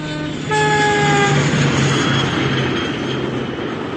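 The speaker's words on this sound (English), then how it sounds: "I'm speaking to you from the Inverness to Strathcarron train" A passenger train from Inverness to Strathcarron rumbles along in a steady, loud roar of wheels on track, with a brief high whistle or tonal squeal early on.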